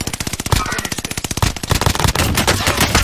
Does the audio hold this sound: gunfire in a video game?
yes